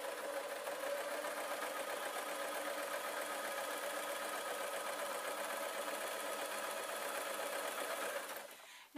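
A domestic sewing machine runs at a steady speed while stitching the seams of a fabric peg bag, a continuous close whirring that stops abruptly at the end.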